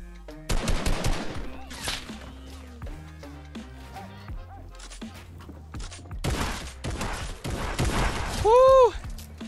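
Rapid bursts of combat shotgun fire in Fortnite, loud repeated blasts in clusters with impacts and other game effects between them, and a player talking excitedly over the action.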